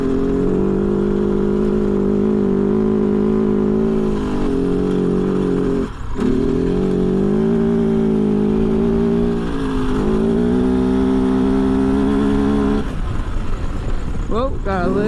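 Kove FSE 450R rally motorcycle engine riding through desert on non-sand tires, a loud, close droning engine with rising and falling revs, a brief dip near six seconds, wind buffeting throughout.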